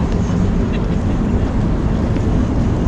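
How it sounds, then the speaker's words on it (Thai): An airliner takes off near Kansai Airport in Osaka, heard as a steady, distant low rumble with a broad roar that holds evenly throughout, with no talking. "ก็จากตรงนู้นมาดูเครื่องบินขึ้นแล้วนะทุกคนเห็นไหม"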